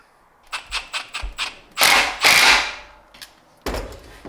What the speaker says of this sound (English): Putting the bolt back in with Loctite.